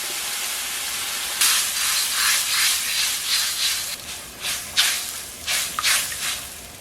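Sauce poured into a hot pan with ginger and garlic for spicy spinach noodles bursts into a loud hiss, then settles into uneven surging sizzles and steamy bubbling.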